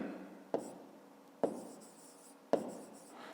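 A pen scratches across paper during a fifth-grade maths exercise, with three short distinct strokes at a steady pace, each a quick sharp onset that fades, close and quiet.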